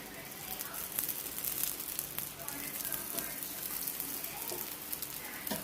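Kuzhi paniyaram batter fries in oil in a pitted pan, a quiet continuous sizzle with faint crackles and small pops throughout.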